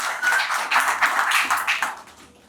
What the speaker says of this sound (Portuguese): Uma salva de palmas a essas pessoas tão importantes